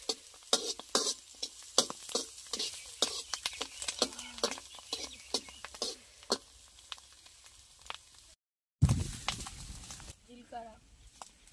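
Tomatoes and onions frying in a pan: sizzling spatters and scraping stirs of a spoon recur in an irregular rhythm, fairly close, with people talking over the cooking throughout.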